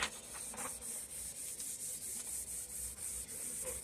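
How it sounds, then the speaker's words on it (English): A hand rubs back and forth over a décor transfer sheet to press it onto a surface, producing quiet, rhythmic scratchy strokes repeated about four times per second with no voices. "you want to take your sheet and just rub over the entire thing"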